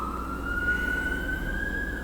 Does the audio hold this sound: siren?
yes